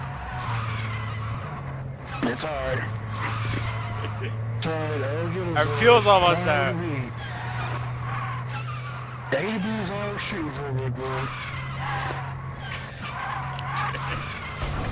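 A car in Warzone 2 keeps up a steady engine drone and gives several bursts of tire skidding and scraping as it gets wrecked. Players talk over the whole scene.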